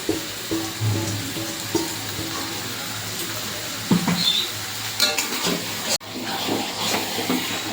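Chicken frying in oil while being stirred for a Bengali chicken kosha, a steady close sizzle and hiss with scraping stir strokes through the pan, a sharp clatter near the end.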